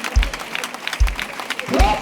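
A church congregation claps hands while praying, with a dense wash of clapping and voices under a few deep rhythmic thumps.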